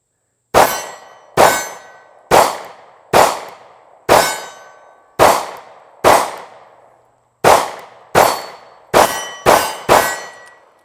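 A Taurus Millennium G2 pistol fires about a dozen loud, close gunshots in an uneven rhythm, each a sharp crack that fades quickly, with a short pause partway through and no talking.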